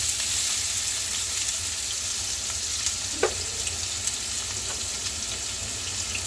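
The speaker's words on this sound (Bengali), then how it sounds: "দিয়ে দিচ্ছি 1 কাপ মিহি কুচানো পেঁয়াজ।" A cup of finely chopped onion frying in hot oil in a pan makes a steady close sizzle, broken by a couple of faint clinks and stirring sounds, with no talking.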